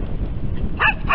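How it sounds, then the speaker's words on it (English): Dogs bark in a residential neighbourhood of houses, two short bursts toward the end heard over a steady outdoor background. "Those are just the dogs barking."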